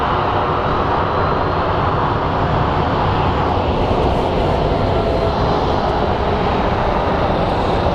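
A FedEx Boeing 767 passes at an airport, its jet engines producing a steady, loud, broadband roar that holds without a break, with no voices over it.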